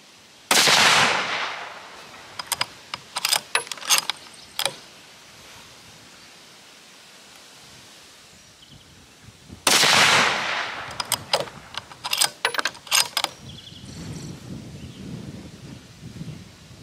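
Savage Axis II .243 rifle firing outdoors in gusty wind: two loud, sharp shots several seconds apart, each followed by a cluster of metallic clicks and clacks from the bolt being cycled, with wind noise between.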